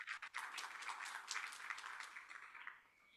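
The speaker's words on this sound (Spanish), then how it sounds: "Le damos un aplauso al doctor" Audience applause for a doctor on a university panel about water-related social research projects, a brief burst of clapping from a room of people that fades out within a few seconds.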